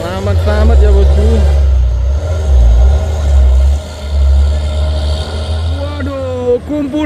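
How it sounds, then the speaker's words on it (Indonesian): Several vegetable trucks labor uphill at Bukit Kodok, their engines droning loudly and nearby with low rumbling and shifting pitch, while people talk over the noise. "kumpulan truk sayur menanjak"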